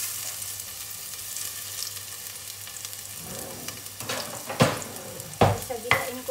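Ginger and mushrooms sautéing in a pan for arroz caldo, a steady faint sizzle that builds after a few seconds into louder clattering stirs and scrapes of a utensil against the pan near the end.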